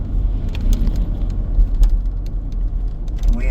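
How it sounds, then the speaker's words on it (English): Coal truck rolling past on a small-town road, a steady low rumble that stays heavy and close through the moment, with faint clinks and rattles on top. "And there's a coal truck now."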